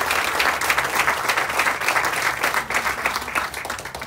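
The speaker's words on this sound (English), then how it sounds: "Give them another round of applause" An audience at a veterans monument ceremony applauds in a dense, steady wash of many hands clapping at once, loud and sustained throughout with no voices over it.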